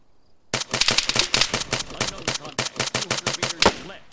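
Rapid automatic gunfire in ArmA 3, a long string of sharp, evenly spaced shots close and loud, with a short pause partway through before firing resumes, and no talk over it.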